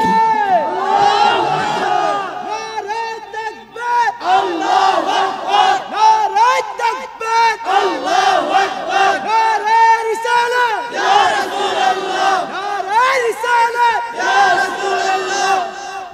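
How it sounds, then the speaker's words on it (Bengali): A large crowd at a religious sermon roars takbir in loud, repeated unison shouts, the voices swelling and falling in waves for several seconds. "একটা তাকবীর লন জোরে"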